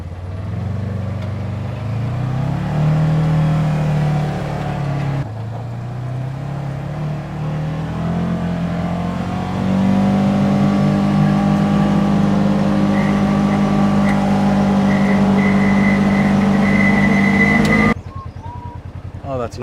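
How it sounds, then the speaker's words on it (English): A Polaris Ranger 1000 UTV cruising down the road at roughly 50 to 60 mph, a steady loud engine drone with rising pitch as it speeds up and wind buffeting underneath, voices talking over the engine. "we're gonna go down the road at 50, 60 mile an hour and just see how it does"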